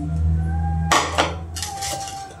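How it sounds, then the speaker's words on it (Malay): Black pepper being pounded in a mortar with a pestle while preparing a Malay kerabu salad, a few sharp hard knocks and clinks over a steady background hum. "kita tumbuk lada hitam"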